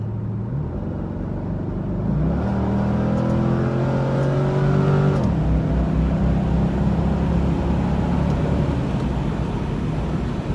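A heavy C5 Corvette accelerating on the road, its engine note climbing steadily through the gears with a shift midway, loud and continuous from inside the car.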